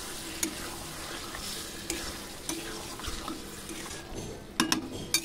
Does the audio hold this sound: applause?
no